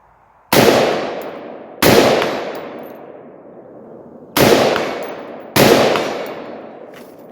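Four loud, sharp gunshots from a 13-inch AR rifle fired at a 100-yard range, spaced a second or two apart with a pause mid-string, each followed by a long fading outdoor echo.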